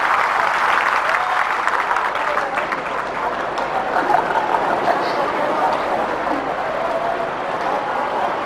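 Audience at a community get-together in Surat, the 2004 Kunkavav Parivar Sneh Milan, applauding in a steady, dense wash of clapping that holds for several seconds, with some voices beneath it.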